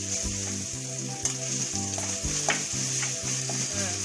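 Crushed ginger, garlic and green chili fry steadily in a pan with a continuous sizzle, and a rhythmic low clunk of stirring repeats about twice a second throughout. No voices.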